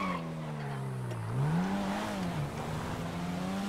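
A supercar in GTA 5 accelerating hard, its engine note climbing in pitch, dipping briefly, then rising again; a loud, close, continuous revving with no talk.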